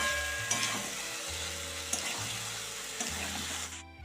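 Fried chicken sizzles in spice masala while being stirred, giving a close, continuous frying hiss broken by a few scraping stirs, over a faint background hum.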